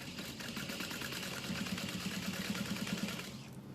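A sewing machine stitches a wallet seam with a fast, even mechanical whir and rapid needle ticking, running continuously and close.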